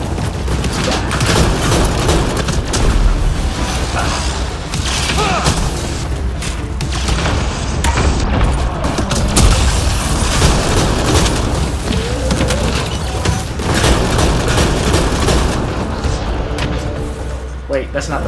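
Constant gunfire and booming explosions in the video game Mass Effect: Andromeda, a dense and loud battle din that runs the whole time, with a player speaking over it.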